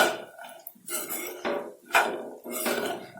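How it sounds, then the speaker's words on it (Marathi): Utensil scraping and clinking against a pan while okra is stirred and coated in spice masala, in several short bursts of metallic scrapes and taps, close and clear with no talk. "आता पूर्ण मसाल्यामध्ये आपली भेंडी एकजीव करून घ्यायची."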